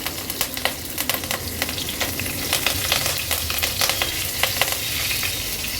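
Curry leaves crackle as they hit hot oil tempered with asafoetida and cumin, about three tablespoons of oil, for a traditional Bhogi mixed vegetable dish; a steady close sizzle with sharp popping bursts throughout, no talking.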